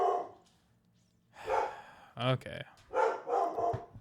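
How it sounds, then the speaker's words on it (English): Murdoch the dog barks indoors, a few sharp barks and yips near the middle and end, mixed with a person's brief speech. "don't you start barking"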